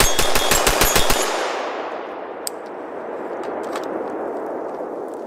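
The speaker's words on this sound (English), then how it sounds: "This is one of the loudest compensators I've ever shot, and I've played with a couple of really bad ones before." Ruger MPR 16 AR-style rifle fitted with a radial compensator fires a rapid string of about eight loud, sharp shots, then a long reverberant decay and ringing tail, with a faint metallic clink near the end.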